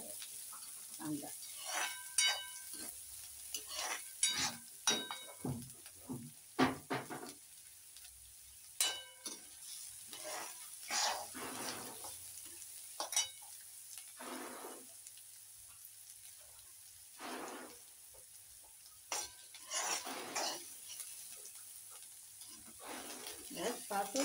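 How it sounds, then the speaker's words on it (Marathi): Onion sautés on high heat in a pan while a spatula stirs it in irregular bursts of scraping, over a faint background sizzle. "हे चांगलं परतून घ्यायला आहे कांदा."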